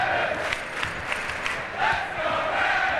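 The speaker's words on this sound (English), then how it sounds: "Listen to this ovation for South Dakota State." A crowd at a college basketball game between South Dakota State and South Dakota gives an ovation, with sustained cheering and shouting from a large arena audience.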